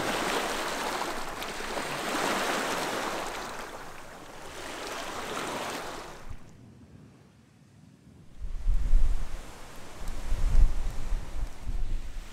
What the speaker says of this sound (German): Es ist ein bisschen windig, aber noch geht's.